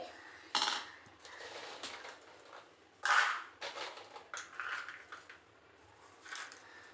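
Toor dal and chana dal pour into a bowl in a home kitchen, giving a few short rattling hisses of dry lentils against the bowl with light clinks in between, close and fairly quiet.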